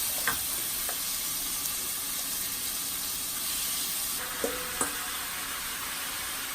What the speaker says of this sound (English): And when you hear that sizzle, that's when you know it's the right temperature.